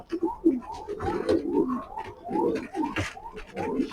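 Racing pigeons, including grizzle pairs, coo close by in repeated soft, throaty rolling calls that overlap one another without pause.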